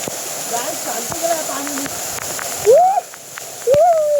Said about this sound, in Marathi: भावांनो धबधब्याचा आवाज बघू शकतात म्हणजे किती पावर असेल धबधब्यामध्ये